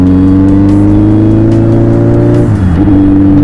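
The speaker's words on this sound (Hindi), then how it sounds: "और ये आई हमारी गाड़ी, ये गई देखो हवा की गति से" A Volkswagen car speeds past with a loud, droning engine roar that drops sharply in pitch about two and a half seconds in as it passes, then carries on steadily.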